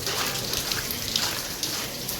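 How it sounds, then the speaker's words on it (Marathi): Steady rain pattering and hissing on surfaces, dense and continuous throughout, with no voices. "पाऊस खूप"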